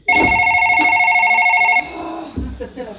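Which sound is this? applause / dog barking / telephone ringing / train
telephone ringing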